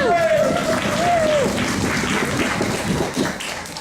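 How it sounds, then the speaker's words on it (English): A theater audience at an improvised Brothers Grimm performance stomps its feet and claps its hands together, a dense, loud, continuous wash of thuds and claps. A voice is heard briefly at the start. "stomp your feet and clap your hands"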